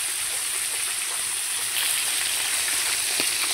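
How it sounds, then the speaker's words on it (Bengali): Salt-and-turmeric tilapia frying in hot oil gives off a continuous, even sizzle, close and full, swelling slightly partway through with scattered small pops. "এভাবে কিছুক্ষণ মাছগুলো আমরা ভেজে নেব।"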